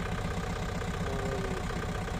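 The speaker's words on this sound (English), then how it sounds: "Take video on your tractor." A tractor engine idling at a landscape maintenance site, a steady low throbbing rumble with an even pulsing rhythm, close and constant throughout.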